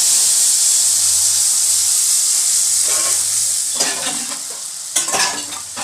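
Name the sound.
mustard paste frying in hot oil in a wok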